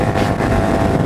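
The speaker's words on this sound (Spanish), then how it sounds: "¡Qué bien empuja esta moto!" A KYMCO AK 550 maxi-scooter rides at road speed, its engine drone blended with heavy rushing wind noise, loud and constant over a brief stretch.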